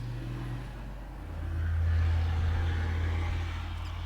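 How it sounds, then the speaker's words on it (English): Noisy road traffic outside the room carries as a steady low rumble. An engine swells as a vehicle passes, with no talking. "Yep, noisy traffic, standard life around here."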